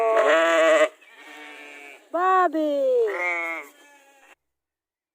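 Sheep on a hobby farm in a village in Vorarlberg, Austria, bleat loudly several times in quick succession, one wavering cry after another up close, with a short call from a person among them.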